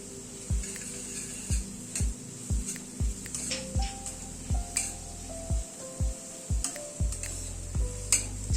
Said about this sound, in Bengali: পেঁয়াজটাকে হালকা করে ভেজে নিলাম। খালি পেঁয়াজের কালারটা একটুখানি চেঞ্জ হয়েছে, মানে মিনিট খানেক একটুখানি নাড়াচাড়া করে নিয়েছি। এখানে 1 টেবিল চামচ মতো রসুন কুচি দিয়ে দিলাম।